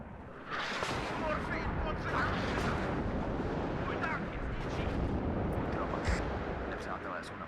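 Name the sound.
artillery fire in the video game WARNO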